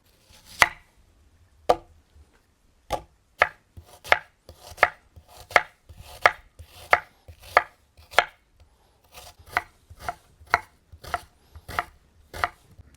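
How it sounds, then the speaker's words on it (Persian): A knife finely dicing onion on a cutting board, sharp close taps at first sparse, then settling into a steady even rhythm. "باید پیازتون رو نگینی و ریز خورد کنین"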